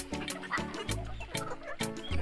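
Backyard chickens that got loose during morning chores cluck in short, repeated bursts close by, a busy patter of low clucks with no talking.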